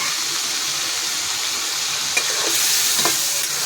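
A Bengali-style crab curry with chili, turmeric and salt being stir-fried in a pan, a loud, continuous close sizzle with a few soft scrapes of the spoon and no speech.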